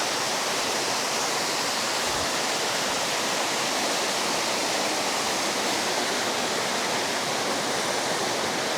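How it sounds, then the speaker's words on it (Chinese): A small waterfall of mountain spring water pours in a continuous, dense rushing roar, close and steady throughout with no voices. "哇，这里形成了一个小型瀑布啊！"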